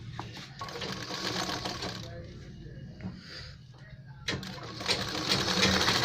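A sewing machine runs a long seam along the folded hem of a ladies' full-collar kurta, its steady motor whir and needle chatter continuing throughout, with a voice talking over it.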